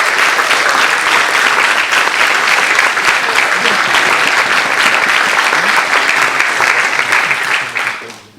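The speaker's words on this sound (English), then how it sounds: "Maybe give the organizers here a round of applause." An audience claps for the organizers at the opening of a Riot gaming event, dense sustained applause filling the room loudly and evenly before tapering off at the end.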